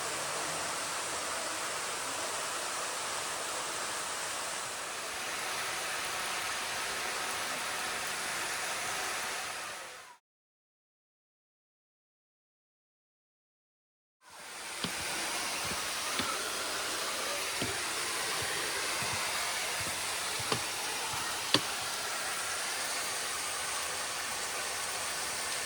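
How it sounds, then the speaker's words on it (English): Waterfalls pour over the rocks in the Hocking Hills, a steady, loud, broadband roar that stops for a few seconds partway through, then returns with a few faint knocks and clicks. "if you listen, you can hear the echo of the waterfalls off the rocks"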